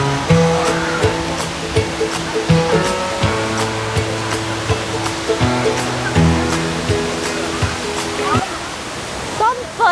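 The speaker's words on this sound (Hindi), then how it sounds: "तो हम फर्स्ट वाटरफॉल पे पहुंच चुके हैं।" Steady broadband rush of a large waterfall in the Mawphlang sacred forest area of Meghalaya, India, a continuous close roar with some tonal hum and faint voices layered over it.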